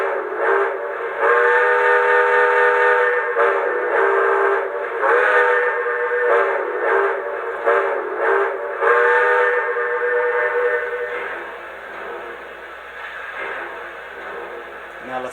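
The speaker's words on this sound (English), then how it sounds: "Let's hear the whistle first." A Lionel Empire State Express model train's steam whistle sounds in a series of short and long blasts, fairly loud and slightly tinny, then trails off into a fainter hum.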